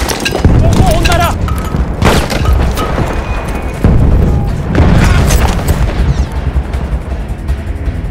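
Booming explosions from a bomb in a video game, several heavy blasts with rumbling gunfire-like bursts over about eight seconds, loud and close, with a voice talking over them.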